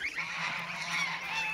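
Thirty-day-old goslings honk and peep in a steady, high overlapping chorus, close and fairly soft, with no voices.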